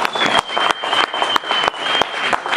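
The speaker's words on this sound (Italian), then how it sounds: "Fategli un applauso da Trieste." Applause at a Christmas blues concert, a crowd clapping energetically in uneven waves punctuated by sharp thumps, with a high sustained tone ringing through part of it.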